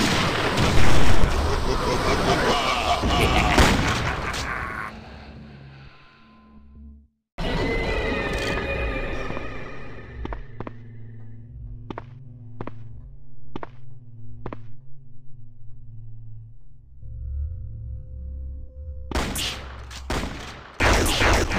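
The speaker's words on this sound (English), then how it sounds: "that's a prophet with a sniper rifle" Sniper rifle gunfire from a prophet enemy in the video game Blood II: The Chosen, with loud chaotic shots and bursts early, then a series of distinct cracking shots spaced about a second apart amid game sounds, with a voice heard.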